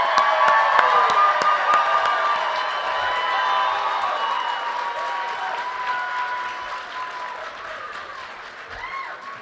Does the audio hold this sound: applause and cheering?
yes